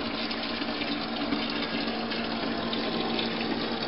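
Hot water runs from an Ecotemp tankless water heater, a steady close rushing flow that stays even throughout with no voices.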